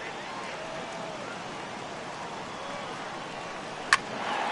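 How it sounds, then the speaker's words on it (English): Steady rain hisses down on a Major League baseball field during a Yankees–Indians game, a broad even wash of drops with one brief sharp crack near the end. "I don't know how much more rain this field can take."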